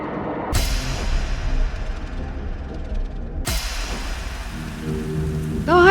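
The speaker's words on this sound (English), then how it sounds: "Oh hey, rain ambience." Steady video game rain ambience pours down in a continuous hiss with a low rumble beneath, swelling in two sudden bursts; no one speaks.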